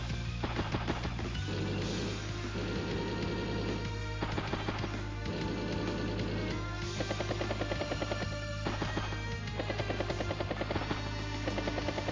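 Battlecopter helicopter unit in Advance Wars: Days of Ruin, a turn-based strategy game: a steady, rapid rotor-like thudding with rattling bursts resembling gunfire, repeating in rhythmic waves at moderate volume.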